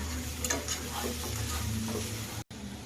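Crab masala fries in a pan while being stirred, giving a continuous close sizzle with soft scraping strokes and a brief dropout near the end.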